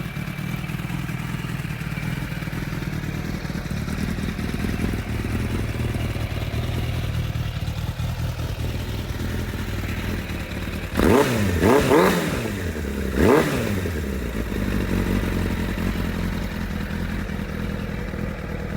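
A motorcycle engine idles steadily close by, then is revved in three quick bursts, with the pitch rising and falling before it settles back to idle.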